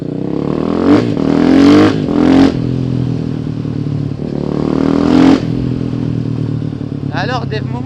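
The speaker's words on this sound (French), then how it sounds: "je vais te montrer un gros point positif de cette moto, c'est le bruit qu'elle fait" A KTM 500 EXC-F single-cylinder motorcycle revs through narrow small streets, with several sharp throttle blips and rising accelerations echoing off walls, then a brief crackle near the end, loud and close.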